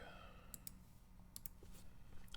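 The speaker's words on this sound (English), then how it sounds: "Mouse clicks." Several sharp computer mouse clicks, some in quick pairs, spread over a few seconds against a steady low fan hum.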